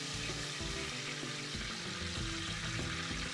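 Water poured into hot mustard oil with asafoetida in a pressure cooker for Kashmiri greens, producing a steady, hissing sizzle with bubbling throughout, continuous and without speech.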